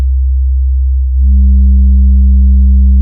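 Drill bass synth in Logic Pro X: a loud, pure sustained low tone that, as the filter cutoff is raised about a second in, gains a stack of brighter harmonics and holds steady to the end.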